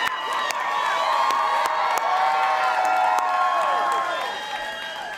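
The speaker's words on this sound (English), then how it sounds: "Give them a big round of applause." A crowd at a political rally in Winston-Salem claps, cheers and whoops loudly, with high shouts and whistles over dense applause that stays strong before easing slightly at the end.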